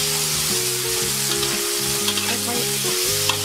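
Tofu fries with a spoonful of fermented soybean paste over gentle heat, producing a constant, close crackle beneath a prominent stepping musical melody.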